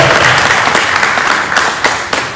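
Brief, loud round of audience clapping for a professor at a mental health summit, a thick continuous patter of many hands close by that thins slightly toward the end.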